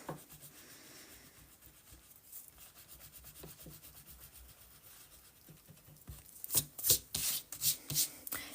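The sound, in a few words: eraser rubbing on planner paper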